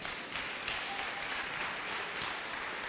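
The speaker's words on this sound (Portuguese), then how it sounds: "dê uma salva de palmas ao rei" Steady applause from a church congregation during a worship service, heard at a moderate distance with dense, even clapping throughout.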